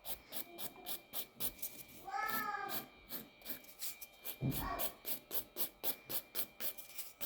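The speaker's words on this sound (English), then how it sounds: "with this one here, I'm going to use my 180 grit and lightly buff the top" A 180 grit buffer lightly rubs across the top of a gel nail built with tips and forms, producing a steady rhythm of short, soft scratchy strokes, close and quiet.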